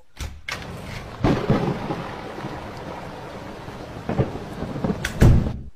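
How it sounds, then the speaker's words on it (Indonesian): A thunderstorm with rain: steady rainfall hisses throughout, broken by several loud, close thunder cracks and rumbles at irregular moments. "Ya, hujan."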